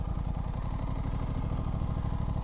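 An Aprilia RS 660 parallel-twin motorcycle engine runs with a steady, throbbing low pulse, close and continuous throughout.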